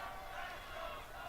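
Arena crowd noise at WWE Raw in Glendale, Arizona, a continuous dense wash of voices at moderate level through the whole stretch.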